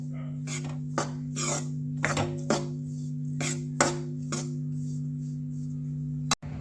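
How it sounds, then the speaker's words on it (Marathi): A spatula stirs gram flour (besan) as it roasts in ghee in a pan, giving a series of rhythmic scraping strokes against the pan over a steady low hum, ending in a sharp knock. "आता आपण पाच ते दहा मिनटं असंच भाजून घेऊ"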